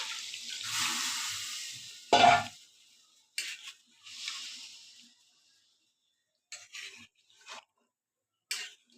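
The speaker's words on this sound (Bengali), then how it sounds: "এবার আমি জল দিয়ে দিচ্ছি।" Water poured into a pan of chicken curry, a splashing pour of a couple of seconds followed by scattered softer splashes, stirring noises and clinks with silences between.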